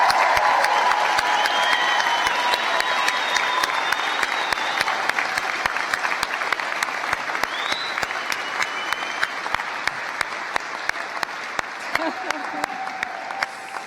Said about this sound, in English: I think we need another big cheer for everybody who has received a degree, a diploma or a certificate today.